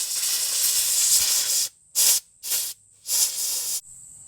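Compressed air blowing dust off an engine part from an old VW fire truck, a long loud hiss followed by three short sharp blasts, close and without speech.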